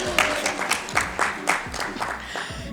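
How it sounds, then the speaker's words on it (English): An audience at a UN civil society briefing gives a short round of applause, sparse, uneven claps with distinct individual hits rather than a dense roar, moderately close. "Round of applause if it is."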